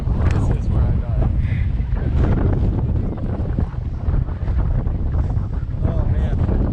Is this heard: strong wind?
yes